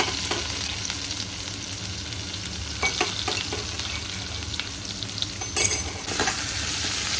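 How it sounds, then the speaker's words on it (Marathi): Crushed garlic fries in hot oil with cumin, mustard seeds and asafoetida, a steady close sizzle with brief scraping stirs and a louder crackle burst near the end. "नंतर लसूण जो ठेचून घेतला होता तो लसूण घातला आहे."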